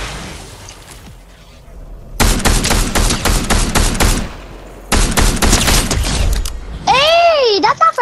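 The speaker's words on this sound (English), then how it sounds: "I'm using my shotgun." Gunfire from a shotgun in Fortnite comes in two dense bursts of rapid, loud blasts separated by a short pause, followed by a warbling electronic tone at the end.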